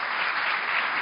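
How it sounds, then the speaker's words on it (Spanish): Steady audience applause from a studio crowd, dense and continuous clapping throughout with no pauses. "Un aplauso, por favor."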